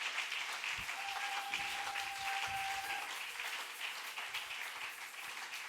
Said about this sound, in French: On acclame pour Dieu.